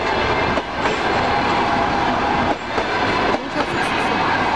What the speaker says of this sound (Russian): Уезжает наш вагон.